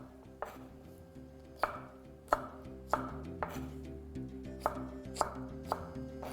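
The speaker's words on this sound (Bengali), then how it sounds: "আমি এখানে একদম রেস্টুরেন্ট স্টাইলই কেটে দেখাচ্ছি" Bell peppers chopped restaurant style with a knife on a cutting board, about a dozen crisp, evenly spaced thuds ringing out close and clear over a faint steady hum.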